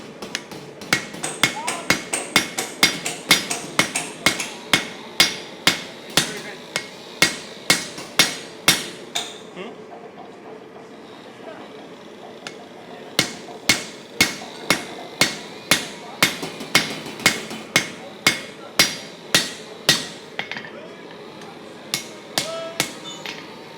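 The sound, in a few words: hammer forging a spear head, drawing out the bevel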